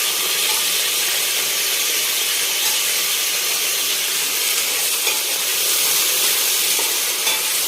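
Green chilies and potatoes sauté in a hot pan for khichdi, a loud, dense hiss of frying that stays constant throughout, with faint stirring noises and no voices.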